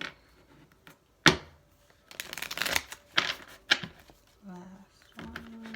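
Tarot cards shuffled by hand in a quiet room, a series of sharp riffling bursts and soft slides separated by pauses, with brief light handling noises between.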